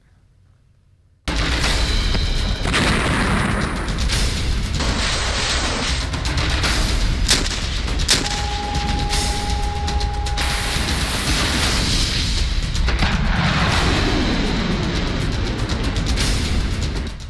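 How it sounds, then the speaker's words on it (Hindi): Missile strikes in the Russia-Ukraine war: after a brief quiet start, a dense, continuous roar of booms and blasts with rumbling mechanical noise and a steady tone partway through, loud and sustained throughout. "रूस और यूक्रेन दोनों ओर से घातक मिसाइलों का प्रयोग हो रहा है।"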